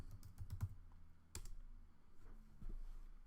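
Computer keyboard typing a Stata regression command, a quiet run of close key clicks in uneven bursts with a louder tap partway through.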